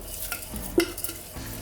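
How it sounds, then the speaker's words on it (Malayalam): Soaked rice goes into a pot of boiling water for vegetable pulao: soft, brief bubbling and hissing with one clear utensil clink midway. "അപ്പോൾ വെള്ളം തിളച്ചു. ഇതിനകത്തേക്ക് നമ്മളുടെ അരി ഇട്ട് കൊടുക്കാം."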